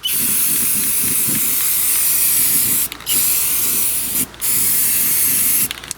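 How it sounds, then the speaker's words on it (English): Tremclad paint spraying onto the welded underside of a Troy-Bilt MTD Cub Cadet riding mower deck, a loud steady aerosol hiss in three long bursts with two short pauses between them. "I'm going to throw a coat of paint on here as well."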